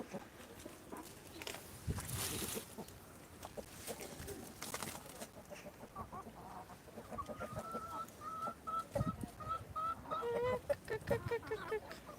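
Chickens tossed discarded lettuce from the trash cluck and peck nearby, soft irregular clucks rising into a run of repeated calls toward the end, with some background rustling.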